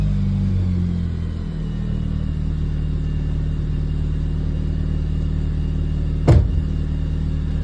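A 2004 John Cooper Works Mini Cooper with a failing alternator idles steadily, a close, even low engine rumble throughout with a single brief sharp click partway through.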